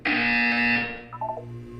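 A loud electronic buzzer sounds in the game Portal 2, a harsh, sustained tone that cuts off after about a second and leaves a lower hum and a few faint blips.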